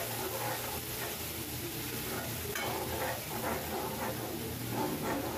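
Tomato-onion paste sizzles steadily in hot oil in a pan, a constant dense frying hiss with soft stirring scrapes, close and even throughout with no talk.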